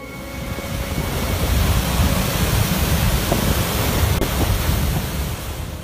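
Knee-deep river floodwater surges through a residential village with a loud, continuous broadband rush, roughened by gusty wind buffeting the microphone, and no voices.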